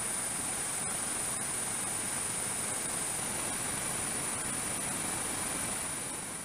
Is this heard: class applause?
no